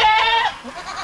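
A young goat on a farm gives one loud, close, wavering bleat that trails off quickly, with other farm sounds faint behind it.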